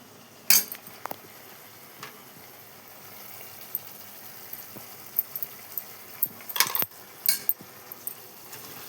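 A spoon stirs green brinjal curry in a pan, giving scattered metallic clinks and scrapes, sharp and close but sparse, over a quiet sizzling background with no talking.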